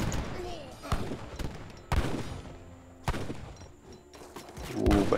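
Video game gunfire from Avis guns in a team match: sharp, loud bursts of shots in several clusters across a few seconds, with gaps between volleys and some muffled background game noise.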